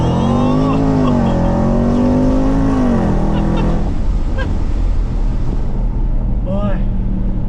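Range Rover SVR accelerating hard, a loud close engine roar climbing through gears before fading into road and wind noise, with a brief honk-like tone near the end.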